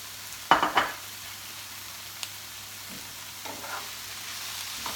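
Spinach dropped onto hot garlic paste in a pan gives a sharp burst of sizzling, then settles into a faint, steady crackle with a few small stirring clicks.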